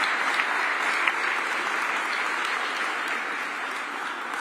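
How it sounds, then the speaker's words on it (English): A room full of people claps steadily, a dense, continuous patter of applause lasting throughout. "just get a little round of applause for the Capitol Historical Society staff"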